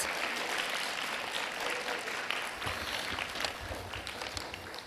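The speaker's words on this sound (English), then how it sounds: "Give yourselves a big round of applause." Steady applause from a school audience at a child labour forum, dense clapping filling the whole stretch, close and loud with no talking over it.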